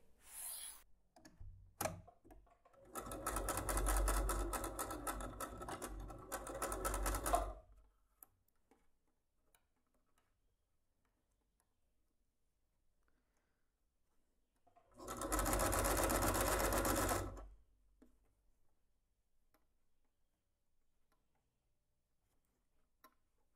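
Sewing machine running a straight seam on a fabric wallet, heard in two separate bursts of steady mechanical stitching, the first about four seconds long and the second shorter, with quiet pauses between them.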